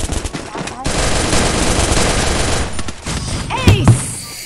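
Automatic gunfire in the video game Free Fire rips out as a sustained rapid burst of shots lasting a couple of seconds, followed by a few scattered shots. Voices talk over the shooting.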